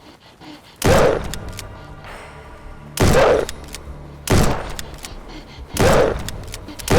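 Four loud, booming bursts of gunfire from a weapon in a video game, fired at irregular intervals a second or two apart, each with a short rumbling tail, close and heavy.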